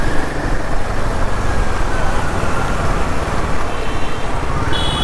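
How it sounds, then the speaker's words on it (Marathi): Road traffic in a rainy Mumbai afternoon jam: a steady, loud roar of car and bus engines with tyre noise on wet road, continuous and close, with a faint horn near the end. "पाऊस पडला ना की ट्रॅफिक होतंच."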